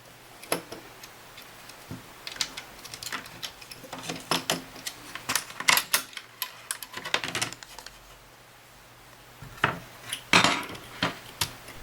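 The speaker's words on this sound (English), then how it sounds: "Unscrew the metal shielding and remove the ejection apparatus." Clicks, ticks and small metallic rattles of a screwdriver and parts as metal shielding is unscrewed from a Super Nintendo and its cartridge ejection mechanism is removed, close and quiet, coming in sparse bursts with brief pauses.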